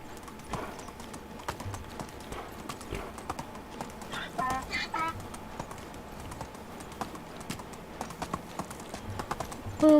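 Donkey hooves clip-clopping in the medieval survival game Medieval Dynasty, a steady run of light, sharp hoof taps at a walking pace, fairly quiet and close, alongside faint game ambience and a brief louder bump at the end.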